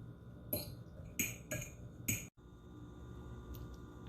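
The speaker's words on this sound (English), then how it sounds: "you want to take a fork and just give them a rough chop" A fork roughly chopping boiled egg yolks in a bowl makes four quick, crisp clinks at close range, then a quiet pause with faint kitchen background.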